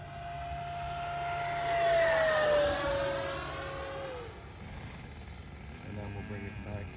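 An E-flite Havoc Xe 80mm electric ducted-fan RC jet flying under power passes by with a high whine that swells, shifts pitch with Doppler and fades as it moves away, someone talking over it.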